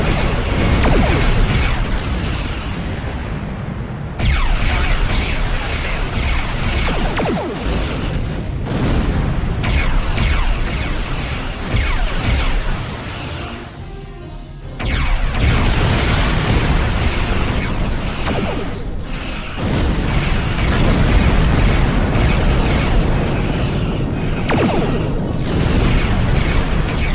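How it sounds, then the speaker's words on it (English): Klingon and Borg starship explosions in a Star Trek video game boom and crash one after another over a dense, continuous roar of game effects. "Ship explosions cause damage."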